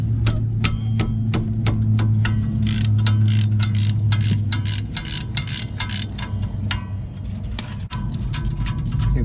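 A wrench ratchets repeatedly on caliper bracket bolts during rear brake work on a Ford Transit, quick rhythmic clicks in bursts over a low mechanical hum, close and clear.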